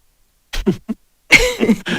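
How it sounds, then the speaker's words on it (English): A few short coughs and throat-clearing sounds, close and fairly loud, separated by brief pauses of silence. "need to cough."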